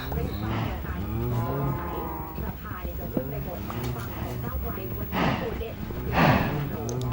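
Cows in the Minecraft video game moo repeatedly, several drawn-out calls close by, mixed with a person talking.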